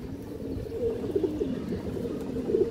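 A big khaki male pigeon of pure line and full down shape coos nearby. Its low, repeated throaty notes roll on in a soft, steady rhythm.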